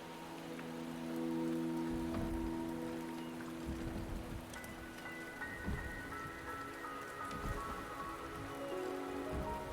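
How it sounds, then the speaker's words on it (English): Steady rain patters on surfaces in the game Wuthering Waves, a dense constant hiss with scattered louder drops and faint low rumbles, heard alone. "The rain is subsiding, and the sky will soon clear."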